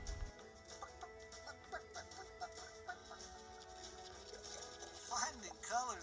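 A chicken clucks in short, faint repeated calls within a children's farm animal song, with music and a voice over it.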